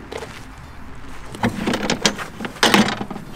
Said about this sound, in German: Tür auf.